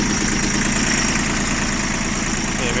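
Shibaura SD1540 mini tractor with a light hand throttle, its small engine running steadily and close by with a mechanical chatter. The engine holds an even, continuous drone for the whole stretch, with no voices.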